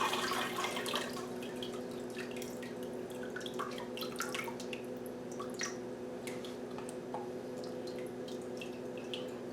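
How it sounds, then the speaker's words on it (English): Cooked squash sits draining as water drips steadily and faintly, small irregular drops and trickles falling close by with no voices. "I'm going to go ahead and take it out and let it drain."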